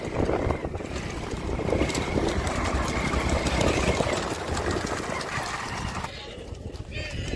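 Horse hooves clip-clopping during a rewal chal horse race at Dhanavada, Abdasa, Kutch, a steady rapid patter buried in a loud outdoor crowd and engine roar, with people talking over it.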